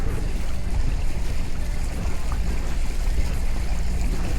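Trolling motor on a fishing boat running on the water, pushing about four miles an hour into the wind, a steady broadband rush and churn with low rumble and wind noise, no distinct pauses.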